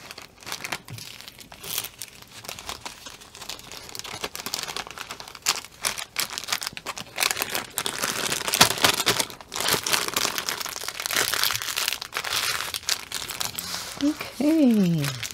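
A plastic bag from a diamond painting haul crinkles and rustles continuously as it is handled close up, growing louder midway, with a voice speaking briefly near the end.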